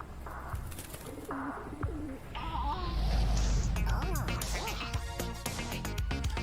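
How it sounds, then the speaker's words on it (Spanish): Cartoonish chicken clucks and pigeon coos sound from a video game trailer about chickens and pigeons, mixed with quacks, squeaks and other comic sound effects over music, and a voice speaks partway through. "Un juego de pollos. Y palomas y cosas."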